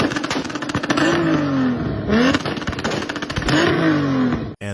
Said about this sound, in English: the fifth car sound is Toyota A90